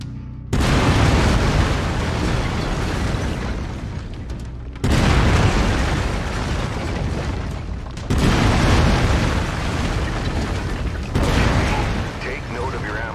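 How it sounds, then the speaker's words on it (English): Heavy autocannon blasts in MechWarrior 5: Mercenaries come in loud, booming bursts, roughly four long sustained volleys separated by brief gaps, each a dense rumbling roar with no talking over it. "I've mapped the autocannon to Weapon Group 1. You're free to fire whenever you're ready."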